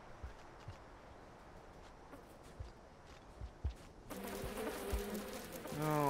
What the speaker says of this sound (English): that one bee nest is a major threat